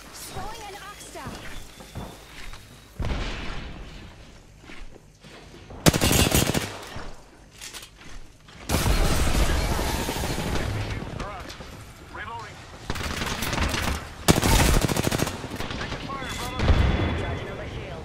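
Bursts of automatic gunfire and heavy blasts erupt in a first-person shooter video game, loud rapid volleys broken by quieter gaps, with game voice callouts heard between the shots.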